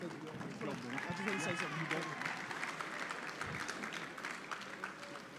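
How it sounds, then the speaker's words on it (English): A crowd applauds a rising South African fighter being introduced at an East vs West 18 match, a steady wash of clapping and cheering throughout with talk mixed into it. "give a massive round of applause for this rising star representing South Africa"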